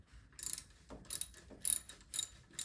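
A ratchet snugs a 12 mm bolt on the alternator of a 2009-2013 Toyota Corolla, giving four or five short bursts of quick metallic clicking, close and fairly quiet, with pauses between strokes.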